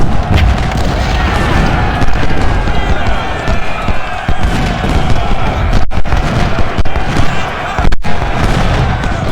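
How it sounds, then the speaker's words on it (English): Loud battle audio from Ultimate General: Civil War at Antietam, with continuous rumbling booms of artillery and musket fire rolling steadily throughout under a speaking voice, with a couple of brief dropouts. "Lewis, move up and shoot at him."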